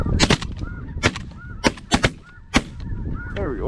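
Geese honk during a goose hunt in Alberta, with loud close gunshots among the calls and a flock's honking continuing in the background.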